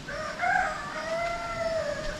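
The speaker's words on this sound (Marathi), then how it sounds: "कोंबडे म्युझिक देतात" Roosters crow on a shady village road in rural Ratnagiri, two overlapping drawn-out calls at moderate distance over a steady outdoor background.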